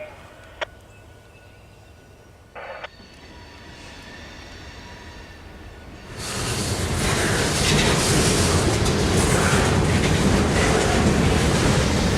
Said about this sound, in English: the engineer moved the train forward to pick up the conductor waiting at the switch